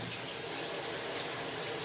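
Steady running water rinses a Coton de Tulear's coat during a bath, a continuous close, loud hissing spray with no break.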